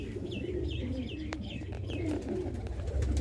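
Soft coos from a black-eyed Mirab pigeon in a loft, repeated low calls with lighter chirps above, steady and close, no talk.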